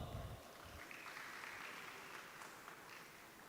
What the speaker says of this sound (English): Audience, don't you think they deserve a big round of applause?